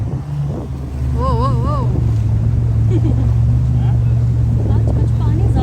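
Jet skis and boats on the open water at JBR beach in Dubai, a steady engine drone under constant wind rumble with a brief whine rising and falling early on, people talking nearby.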